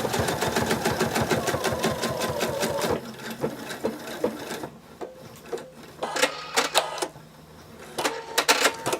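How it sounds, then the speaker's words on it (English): A sewing machine stitches a small half-oval along a dart on a tiny dragon plush, running in rapid bursts of closely spaced needle strokes, pausing, then starting again in short stitches. "fold it at the dart, like that, and then sew along this little half circle,"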